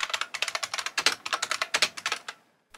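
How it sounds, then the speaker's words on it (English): Rapid typing on a standard computer keyboard, with a dense run of close, crisp key clicks in an irregular rhythm that trails off near the end, with no voices. "here's the control test of me typing on my normal keyboard first"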